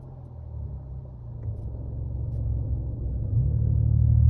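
A 1982 DMC DeLorean drives with a steady low engine rumble that slowly builds as it accelerates, heard from inside the car without any talk.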